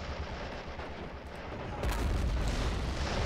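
Tank cannon fire strikes a tank in the World War II strategy game Men of War, a loud rumbling boom that swells and holds partway through.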